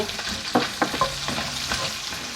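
Sausage and onion frying in a pan give a continuous close sizzle, broken by a few quick knocks and scrapes of a utensil stirring them.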